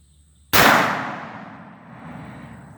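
A Taurus Raging Judge Magnum revolver fires a single 45 Long Colt reload at an outdoor target, one sharp, loud crack that decays into a rolling echo.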